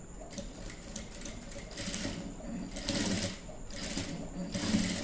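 Sewing machine stitching the joint of a langa blouse, running in close rhythmic bursts of rapid needle chatter that rise and ease, with a faint hum between runs.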